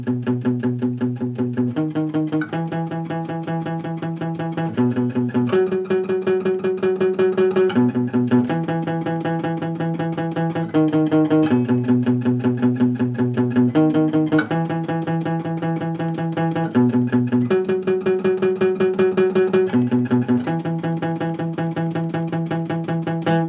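Guitar playing the bridge of a song, an eight-bar pattern of steady repeated chords cycling evenly throughout, clear and alone with no voice.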